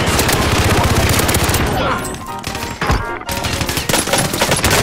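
Loud, sustained automatic gunfire in the video game Warzone, continuous rapid shots nearly throughout with a short lull near the middle and voices talking over the fire.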